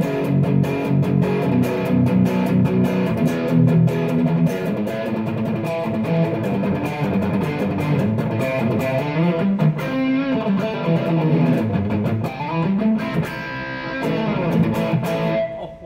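Heavily distorted electric guitar from a 2019 Mexican Fender through a Korg AX3000G processor, riffing continuously and loudly, with dense chugging notes and a few bends toward the end.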